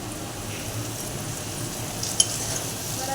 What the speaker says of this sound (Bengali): এবার আমি আলুটা ভালো করে ভাজা ভাজা করে নেব।